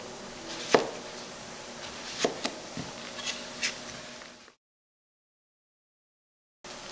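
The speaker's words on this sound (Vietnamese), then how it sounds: "Dưa leo thì các bạn chẻ dọc, rồi mình cắt ngang lại như vậy." A knife cuts a cucumber on a cutting board, split lengthwise and then sliced crosswise: several sharp, close cuts spread over about four seconds, followed by silence.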